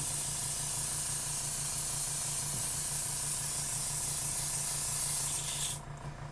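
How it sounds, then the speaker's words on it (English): An airbrush sprays a base coat of craft paint onto a tumbler in a steady, close hiss. The hiss runs continuously and cuts off abruptly near the end, leaving a quieter background. "You can hear when it's starting to get low, you want to stop your airbrush off of your project so you don't get splatters all over it"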